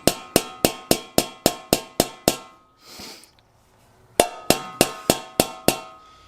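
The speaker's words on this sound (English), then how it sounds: "a little hammer work to get some of these lips where we need them." Sharp metallic hammer strikes on the lips of an Early Bronco metal taillight housing, in two quick, evenly spaced runs of about eight blows each, close and loud, separated by a short pause with a faint breath.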